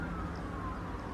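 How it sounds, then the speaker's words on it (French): Police siren wailing in the distance on a city street, a faint steady tone held under a broad wash of urban background noise. "il y a une sirène là-bas de police"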